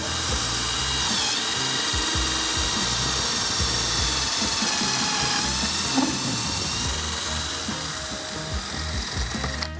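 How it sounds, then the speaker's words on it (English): A power drill bores steadily into a mannequin that turned out not to be hollow, a continuous whining grind that stays close and loud for the whole stretch, with slight shifts in pitch as the bit works through. "So let's see if we can drill through."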